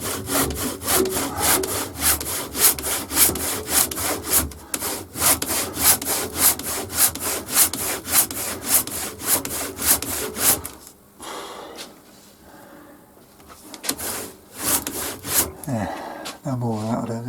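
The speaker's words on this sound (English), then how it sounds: "spend an hour or so hacking through with the ordinary saw" A hand saw rasps steadily through a block of wood in rapid back-and-forth strokes, loud and close, pausing briefly before a few final strokes.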